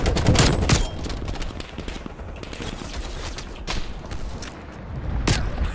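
Rapid, sustained gunfire on the Nuketown 84 map in Call of Duty Black Ops: dense automatic bursts with a few louder cracks standing out, loud and close throughout.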